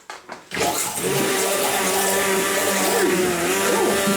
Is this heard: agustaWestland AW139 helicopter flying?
no